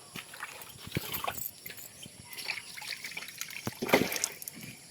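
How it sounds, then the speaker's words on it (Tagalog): Water being poured into a container outdoors after a catch of large snakehead fish: a steady, close trickling and splashing with small irregular plops, moderately loud, no talking. "lagyan natin ng tubig"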